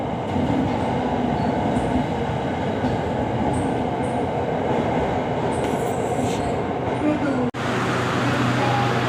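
A commuter train on Bangkok's Red Line West electric railway rumbles steadily past at close range, with a continuous roar of wheels on rails and faint squeals, plus a brief sharp click near the end.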